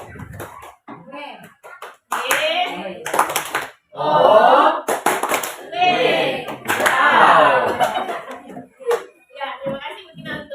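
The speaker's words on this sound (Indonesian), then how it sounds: "Beri aplaus dulu untuk Mutia." Classroom applause for a student, several bursts of hand clapping that turn into a short rhythmic clapping chant, mixed with a speaking voice and children's voices.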